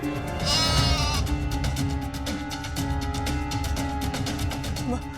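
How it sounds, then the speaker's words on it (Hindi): A goat bleats loudly and close by in a long, wavering cry that repeats over several seconds, with a faint voice underneath. "ये बकरी न जाने कहां से आ गई और शोर मचा रही है।"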